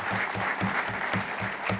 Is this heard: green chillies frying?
no